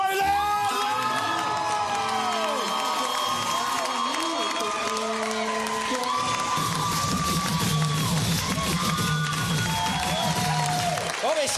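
A comedy-show audience erupts in cheering, whoops and applause as a comedian takes the stage, a loud continuous crowd roar with high shouted voices rising and falling over the clapping.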